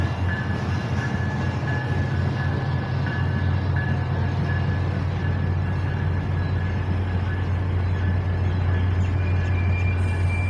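A northbound train passes close by, with a loud, steady low rumble of wheels and cars and a sustained high squeal or tone running through the whole stretch, with no voices.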